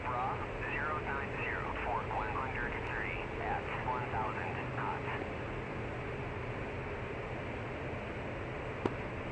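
An F-14 jet engine runs at full military power in the DCS flight simulator during a tail-chase intercept, a steady loud roar with faint radio chatter layered over it.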